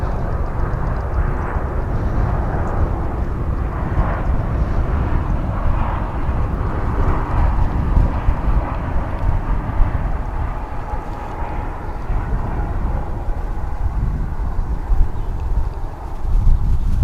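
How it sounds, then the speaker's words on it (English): An American Airlines Boeing 787 Dreamliner arriving from Amsterdam approaches a DFW airport runway with a continuous low engine rumble and roar. The sound stays steady and heavy throughout, with no voices. "let's turn our attention now to this American Airlines Flight 221 coming in from Amsterdam, a Dreamliner. Here it comes."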